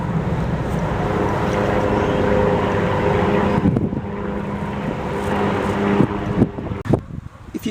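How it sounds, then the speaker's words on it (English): A low, steady engine drone of an aircraft passing overhead rumbles throughout, with some wind buffeting and handling bumps toward the end. "So you might hear some planes go past"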